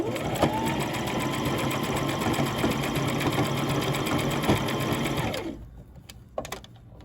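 A sewing machine runs close and steady as a stretched leg band is stitched onto jogger pants. The even mechanical hum lasts about five seconds, then stops, leaving quieter handling sounds.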